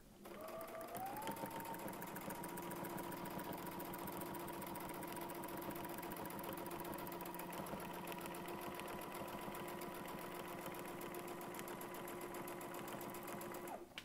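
A sewing machine hums steadily at a constant speed, stitching fabric along a Westalee Spin E template. The run is unbroken and the motor whine holds a steady tone throughout.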